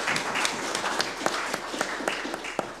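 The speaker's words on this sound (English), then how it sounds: "could we have another round of applause for all the candidates who put themselves forward this year?" An audience at an annual general meeting claps for election candidates, a brief, moderately loud patter of applause with individual hand claps audible, no voices over it.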